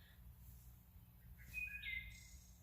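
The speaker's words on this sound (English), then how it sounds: "I wanted you to hear these birds." Birds near an Appalachian Trail cabin at Watauga Dam give a few high, clear whistled chirps in the second half, moderately close over a low, steady outdoor rumble.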